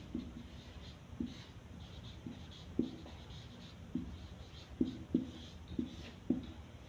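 Chalk or marker tapping and scratching on a board during a Hindi grammar lesson, heard as a steady run of short, close strokes with sharper clicks at irregular intervals, alone without talk.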